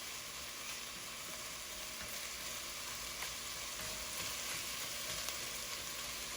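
Onions and carrots sweat gently in a pan for chicken with cheddar biscuits, giving a steady, soft sizzle that holds even throughout without any talking.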